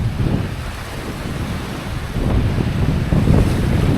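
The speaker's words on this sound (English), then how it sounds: "It's a bit more windy than I have hoped for" Strong wind gusts roar across the microphone while waves wash around a windfoil board out on open water, a loud, steady rush that swells near the end.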